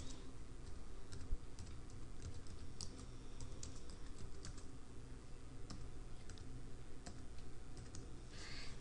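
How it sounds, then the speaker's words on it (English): Quiet clicks of someone typing on a computer keyboard, irregular bursts of keystrokes with short pauses, heard close over a faint background hum. "I'm going to type in office because my landmark is going to be my office."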